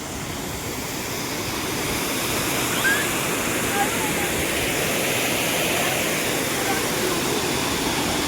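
A rain-swollen stream pours over a small check dam in a village during heavy rain, making a steady, dense rush of water that stays loud and even throughout, with no voices.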